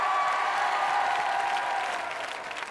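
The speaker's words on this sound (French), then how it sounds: "Je voudrais qu'on applaudisse Mousse Diouf ce soir." Loud, sustained audience applause fills a French Saturday-night TV karaoke show studio, a dense steady clapping that continues throughout and eases slightly toward the end.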